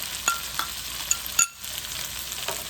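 Fresh tomato and basil stirred in a pan of hot oil for a tuna pasta sauce, a constant sizzle marked by a few quick spoon scrapes and a brief lull, close by with no voices.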